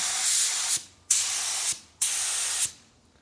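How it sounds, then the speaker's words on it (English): A Sagola 3300 GTO automotive paint spray gun fires at wide open setting, three loud, steady hissing bursts of about a second each, separated by short pauses. "that is a nice spray pattern, very large, very uniform, and very usable at wide open"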